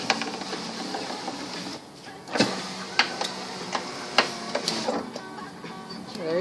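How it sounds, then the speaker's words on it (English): Power window regulator in a Pontiac Grand Am running the glass up and down, a steady motor whir with clicks and thumps as the window stops and reverses, heard close with no talking. "So this is what it sounds like up and down now."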